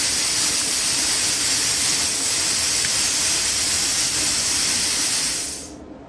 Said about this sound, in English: it continues to blow air through once you're done to help cool the nozzle